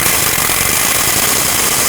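A power tool with a 12mm socket unbolting differential bolts on a 1997-2003 Ford F-150 front axle, a loud continuous harsh rattling buzz close by, with no talk.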